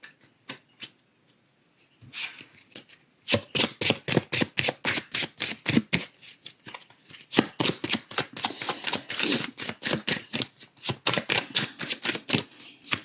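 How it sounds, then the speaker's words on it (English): A Santa Muerte tarot deck, only its major arcana cards, is shuffled by hand in a burst of quick crisp clicks that starts after a quiet opening and runs steadily to the end, close and without talk. "What I'm shuffling here is the Santa Muerte Tarot."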